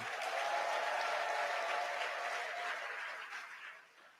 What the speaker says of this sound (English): Please don't let the applause die